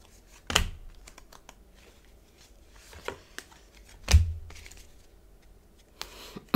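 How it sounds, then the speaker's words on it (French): Tarot cards laid out on a table during a reading, heard as a few separate soft slaps and shuffles spaced a second or more apart over quiet room tone. "Je vais mettre toutes les cartes"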